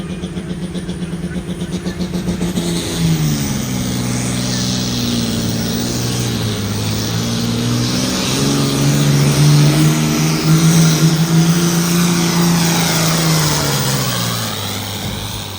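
A high-horsepower pulling tractor roars loudly and steadily at an Iowa truck and tractor pull, its engine note rising and wavering as it pulls through a long, continuous run.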